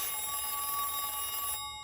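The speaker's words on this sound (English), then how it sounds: "he gets a strange phone call from a voice suggesting to be his dead brother, Thomas." A telephone rings in a TV horror series scene, a bright continuous electronic ringing tone held steadily for about a second and a half before cutting off, with no voices.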